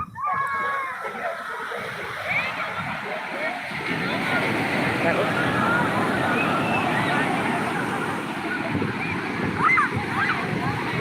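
Sea waves at Puri beach surge and wash in a steady, loud roar of surf that builds and persists, with splashing water close by and a voice speaking intermittently over it.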